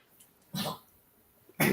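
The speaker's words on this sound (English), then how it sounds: "Dog's choking." A dog choking indoors during a live crochet session: two short, harsh hacking bursts about a second apart, the second louder, against a quiet room with no speech.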